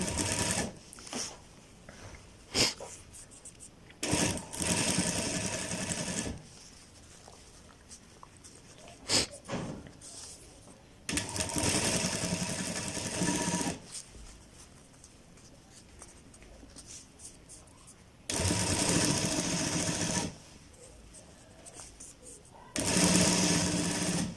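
A sewing machine stitches piping onto a garment placket in several loud whirring runs of a few seconds each, separated by quieter stretches where someone talks.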